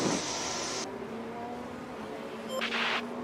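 A pit mechanic's wheel gun in F1 Manager 24 fires in two short, sharp pneumatic bursts, one at the start and one near the end, over a low garage hum.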